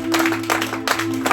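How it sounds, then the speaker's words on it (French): A congregation claps at a church service, steady dense applause over a sustained organ or keyboard tone, no voices clearly heard. "Est-ce que tu peux applaudir le Seigneur?"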